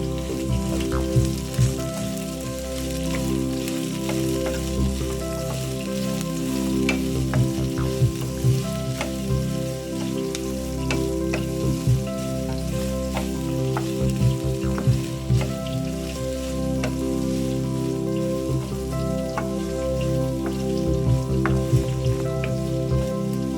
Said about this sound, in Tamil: வெங்காயம் வரப்பதம் வதங்கினதும் நாங்கள் சுத்தம் செய்து வெட்டி வச்சிருக்கின்ற புடலங்காய் இதுக்கு சேர்த்து கொடுப்போம்